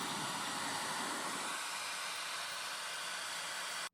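A Dyson Supersonic Travel hair dryer blows with a constant, loud rushing hiss that cuts off abruptly at the end.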